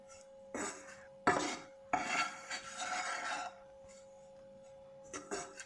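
Macaron mixture stirred in a pan over low to medium heat on a stove, giving bursts of scraping and clinking from utensil against pan, separated by short pauses, close and moderately loud.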